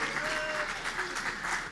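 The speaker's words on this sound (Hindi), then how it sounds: "देखो इनका पूरा गैंग तालियां बजा रहा है" An audience at a youth festival event applauds, dense steady clapping from a sizable group filling the room for a short stretch.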